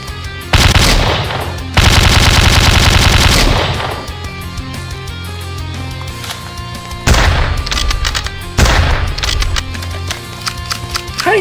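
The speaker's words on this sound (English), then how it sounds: "How do you miss these shots with a sniper rifle?" Rapid bursts of sniper rifle fire in the ST3 video game, several loud sustained volleys separated by short pauses, close and dominant with no speech.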